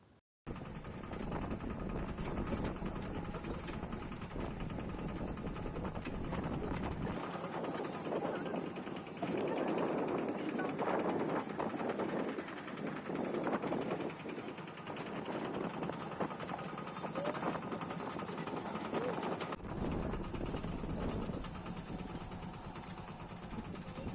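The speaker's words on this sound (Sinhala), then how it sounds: "අපිව මුළු ගම වටේටම ලෑන්ඩ් මාස්ටරෙන් එකගෙන ගියා" A Land Master two-wheel tractor engine chugging steadily during a ride around a village, a loud continuous rapid putter close by with rushing wind, with voices talking over it in the middle stretch.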